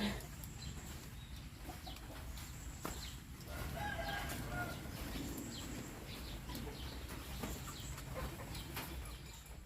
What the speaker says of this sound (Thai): ตอนนี้ก็มีไก่อยู่แล้ว